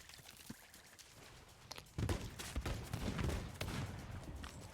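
Cannon blasts and gunshots in a sailing video game, a burst of loud booms and cracks starting about halfway through, with sharper shots scattered before and after over a busy mix.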